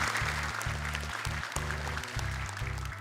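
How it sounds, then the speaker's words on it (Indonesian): A studio audience claps steadily on the Hafiz Indonesia children's Quran-recitation show, the applause running throughout under loud, deep electronic music notes. "Boleh tepuk tangan buat mereka."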